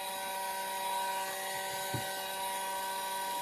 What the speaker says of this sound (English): Let's get the grinder ready to go.